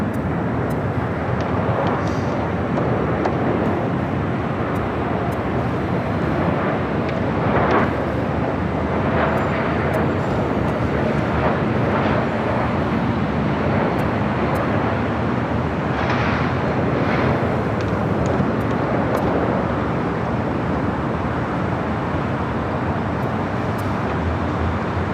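A Delta Airbus A321neo airliner at LAX produces a broad, steady jet roar that holds for about twenty-five seconds at a distance, mixed with airport and road hum.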